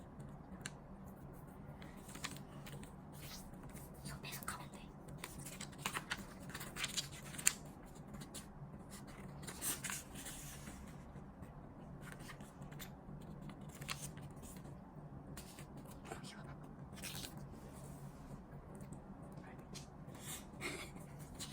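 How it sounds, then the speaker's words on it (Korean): Paper torn by hand into four pieces for an origami project, a series of soft ripping and crinkling bursts scattered over about twenty seconds, faint and close, under quiet talking. "저 같은 경우는 가위손이라 손으로 찢어서 4등분을 만들겠습니다"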